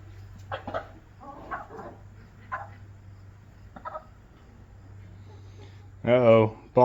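Chickens clucking in a coop with a big flock, brief bursts of fowl calls scattered over a steady low hum, ending in a louder close squawk.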